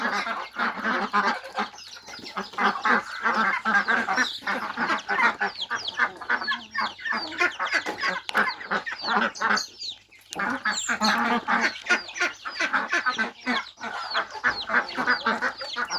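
A flock of egg-laying ducks quacks loudly and continuously, many overlapping calls in a dense, honking chorus close by, with only a brief lull near the middle.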